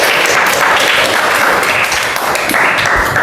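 Dense, loud applause from a classroom group after a mathematics presentation, many hands clapping continuously and evenly with no pauses.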